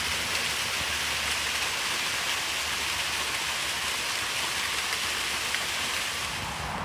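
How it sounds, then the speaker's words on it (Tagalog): A waterfall at Sontagberg gives a steady, dense, hissing rush of falling water, loud and unbroken throughout, with no voices. "It's a waterfall."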